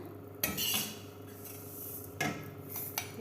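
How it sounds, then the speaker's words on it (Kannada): Roasted flax seeds tipped into a steel mixer jar, with a couple of sharp clattering pours and scraping metal clinks against the jar, separated by quieter pauses. "ಇದು ಜಾರಿಗೆ ಹಾಕ್ತಾಯಿದ್ದೀನಿ ನಾನು"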